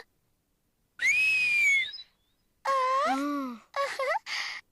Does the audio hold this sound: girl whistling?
yes